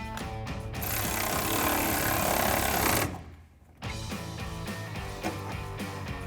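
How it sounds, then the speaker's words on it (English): A 6 mm Allen socket driving a clamp on a Retrax IX tonneau cover down onto the side rail of a Sierra 1500 truck bed, heard as a steady, dense mechanical whirring that briefly drops out and then resumes. "take the 6mm Allen socket to tighten the clamp down to our side rail"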